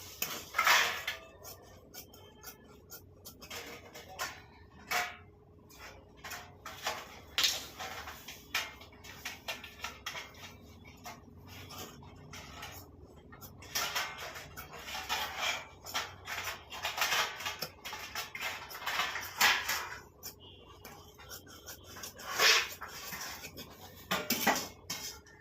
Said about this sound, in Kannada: ಇವಾಗ ಕಟ್ ಮಾಡ್ಕೊಬಿಡೋಣ.